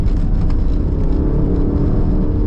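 2025 Aston Martin Vantage accelerating hard on a private road, a loud, continuous, deep engine rumble heard from inside the car throughout.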